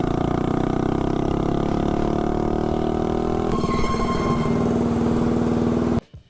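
A mini bike engine running on VP Racing nitro fuel revs loud and close, rising steadily in pitch before shifting to a higher, harsher drone and cutting off abruptly at the end.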